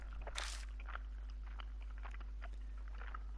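Faint gum chewing comes over a phone line in a video game: soft, irregular wet clicks and crunches repeating under a steady low hum, quiet and close with no speech.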